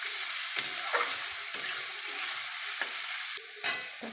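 Cumin, bay leaf and chopped onion fry in a hot pan, a steady close sizzle with scraping stirs breaking through every second or so, no voices.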